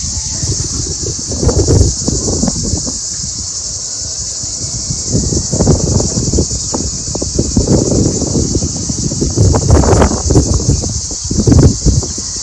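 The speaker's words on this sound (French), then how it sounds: "Désolée pour le bruit du vent." Gusts of wind buffet the microphone in low, uneven rumbles, while a steady high insect-like whine continues throughout.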